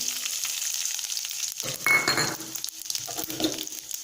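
Dried red chillies and tempering spices fry in hot oil in a kadai, a steady close sizzle that swells into louder crackling bursts partway through, with faint stirring clinks and no voices.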